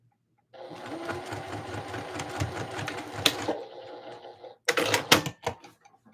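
A sewing machine back stitches a seam on a Christmas dress, a fast rattling run of stitches for about three seconds, then a softer whir, then a few short bursts, close and alone.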